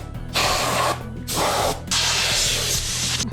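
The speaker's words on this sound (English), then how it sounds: "Clean part, spray both mating surfaces, allow 3 to 5 minutes." Three hissing bursts of Loctite primer sprayed from a can onto the mating surfaces of an NB Miata 6-speed transmission case, each spray close, loud and separated by short pauses.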